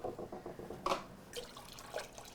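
Heavy cream, condensed milk and whole milk pour into a large stand-mixer bowl with a soft trickling, splashing sound and a few drips, close and quiet, with no talking.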